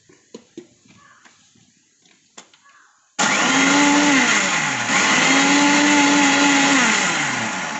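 A few soft spoken words and light clinks come first, then an electric mixer grinder blending homemade mayonnaise starts with a loud, close whir that drops and rises in pitch as it runs.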